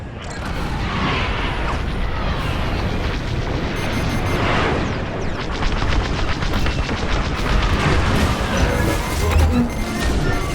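Heavy starfighter fire and explosions in Star Wars: Squadrons form a dense, continuous roar of laser blasts, crashes and booms for about ten seconds, loud and unbroken throughout.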